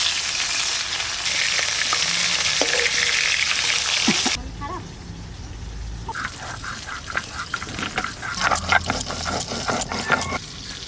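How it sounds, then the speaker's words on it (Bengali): Fish sizzles and crackles in hot oil in a village kitchen, a steady loud hiss for about four seconds, then quieter bursts of spitting and stirring clatter, with a dog and voices faintly around. "মাছ এবার তেলের উপর থাকছে"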